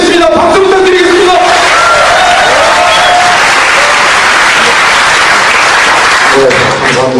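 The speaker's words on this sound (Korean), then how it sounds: "박수 부탁드리겠습니다." Crowd at a party convention claps and cheers loudly, a dense roar of applause with shouting throughout, while a voice over a loudspeaker talks at the start and end.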